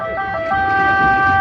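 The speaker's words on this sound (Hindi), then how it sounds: "बलरामपुर चिकित्सालय लखनऊ का यह एम्बुलेंस" Ambulance from Balrampur Hospital, Lucknow, passing in a Republic Day parade, its siren a loud steady electronic tone with sustained pitched notes over vehicle rumble, no voices heard.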